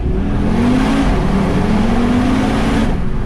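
An Audi TT RS Roadster with its dual-clutch gearbox accelerates hard in first gear through a tunnel with the window down, a loud, steady engine roar whose pitch climbs as revs build, with no talking.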